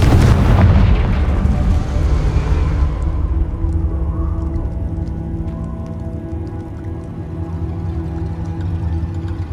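Loud, booming Confringo blasting-spell explosion in the video game Hogwarts Legacy, a massive burst up front that decays into a long rumbling tail lasting several seconds.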